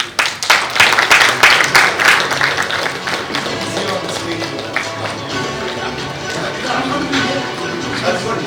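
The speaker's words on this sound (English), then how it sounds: "A big round of applause." An audience at the Telangana Leadership Awards 2023 bursts into lively clapping that is dense and strong at first, then thins into scattered claps, with faint voices beneath.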